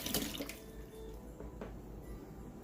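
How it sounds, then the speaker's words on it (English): Tap water runs steadily over a metal fork held under a kitchen faucet, with a brief louder splash at the start and uneven trickling throughout, close and moderately loud with no talking. "we are going to actually take this fork off of here and rinse it"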